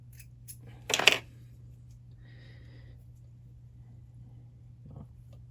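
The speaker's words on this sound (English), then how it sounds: "come in with your scissors" A single sharp snip of scissors cutting fly-tying material near the start, followed by quiet room tone and a faint soft scrape later.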